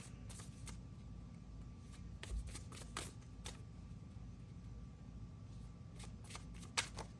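Oracle cards are shuffled by hand close up, producing a quick run of crisp riffling flicks and soft slaps that repeat irregularly over a quiet room, with no talking.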